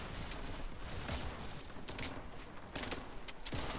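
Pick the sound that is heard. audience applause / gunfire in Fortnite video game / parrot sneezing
gunfire in Fortnite video game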